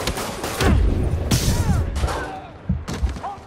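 Booming blasts and gunfire-like bangs from Marvel's Spider-Man game, several loud heavy explosions in quick succession with crackling debris, separated by short gaps and a final thump.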